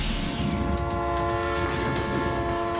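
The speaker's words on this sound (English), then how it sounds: "A train will be barreling down the tracks" A train rolls steadily along the tracks with a sustained, droning horn tone over rumbling wheels, loud and continuous from start to finish with no voices.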